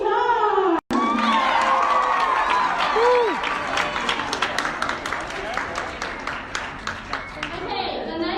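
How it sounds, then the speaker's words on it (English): Children cheer, shout and clap as a crowd at a costume award announcement, with dense, close clapping and excited voices throughout and one sharp break near the start. "Let's give a round of applause for Sweetie."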